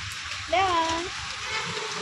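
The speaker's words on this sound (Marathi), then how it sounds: "पाऊस यायला लागला ना" Rain patters down in a constant close hiss while a voice briefly cries out partway through.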